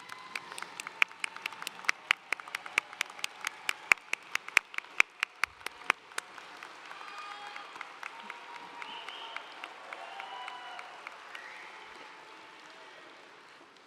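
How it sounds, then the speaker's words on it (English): A commencement crowd at a law school graduation claps for graduates' family and friends, starting with sharp, distinct nearby claps that blend into a softer, diffuse wave of applause before slowly tapering off. "Up on your feet, loved ones, so that we can applaud you."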